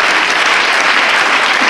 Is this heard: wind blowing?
no